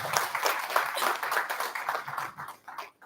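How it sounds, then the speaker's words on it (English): Audience clapping for the speakers at a technical campus event, a steady patter of hands at moderate volume that thins and fades near the end. "please give a big round of applause to all the speakers."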